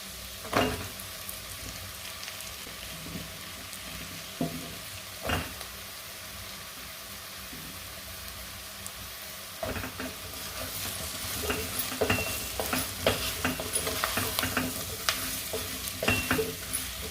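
Bottle gourd pieces sizzle in a pan with chilli powder for a dry fish curry, with spatula scrapes and taps over a soft, steady fry; the stirring grows busier in the second half.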